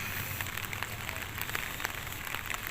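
Steady rain falls in Morong town in the Philippines, a dense, even hiss with scattered soft crackles and drops that stays constant throughout, with no voices.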